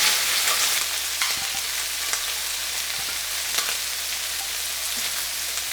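Shrimp sizzle steadily in hot oil in a pan, with a few soft clicks and taps as the pieces are turned over partway through; no talking.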